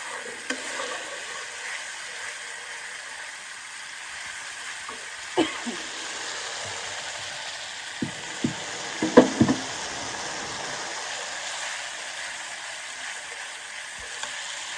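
Spice paste frying in hot oil for a village meat dish, a steady soft sizzle throughout with a few brief stirring knocks near the middle.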